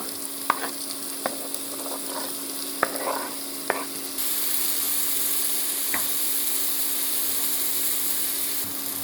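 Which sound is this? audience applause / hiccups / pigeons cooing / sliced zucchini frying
sliced zucchini frying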